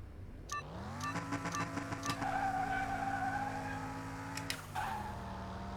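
A race car in a mechanic simulation game skids and revs, its engine note climbing and holding while tires squeal loudly for several seconds before the pitch drops, with no voices over it.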